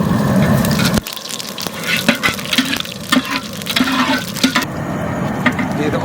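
Whole cumin seeds hit very hot oil for a village-style mutton curry, bursting into a loud, steady sizzle with crackles and stirring scrapes close by.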